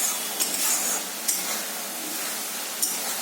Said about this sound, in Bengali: পেঁয়াজ রসুন আদা ভালো করে কিন্তু এটার মধ্যে কষিয়ে নিতে হবে তেলটার মধ্যে